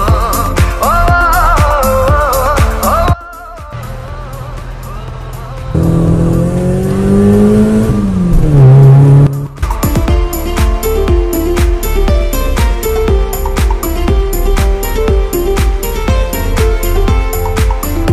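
A car engine revs hard and tires squeal as the vehicle pulls away, loud and close, mixed with a bed of music that drops out briefly before the engine roars back in.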